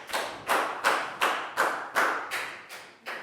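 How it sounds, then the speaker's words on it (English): A small group of schoolchildren in a maths lesson claps together in a rhythmic, chant-like pattern of about eight evenly spaced hits, each dying away quickly, with no talking. "High five and big round of applause for bang on,"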